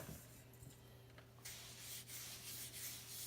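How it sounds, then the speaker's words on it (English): Hands working a spice rub into a brisket, a soft continuous rubbing and brushing scrape that grows louder and steadier partway through, close and alone with a low background hum. "I like to just really rub this in"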